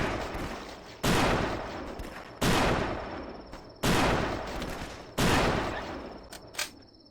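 Gunfire in The Last Stand video game: four heavy, booming shots fired at a steady pace about a second and a half apart, each trailing off in a long echoing decay, loud and close.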